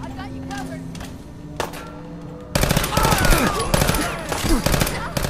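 Rapid gunfire from a gun in the video game Fallout 4, a dense loud burst of repeated shots with ringing, whizzing effects, preceded by quieter game sounds and a single shot.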